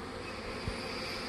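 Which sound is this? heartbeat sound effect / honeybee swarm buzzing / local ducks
honeybee swarm buzzing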